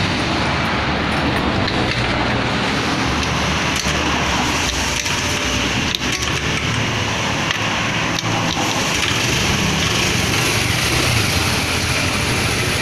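A Honda Vario motor scooter engine runs steadily after a CVT installation, its continuous close mechanical drone holding even for the whole stretch with no voices.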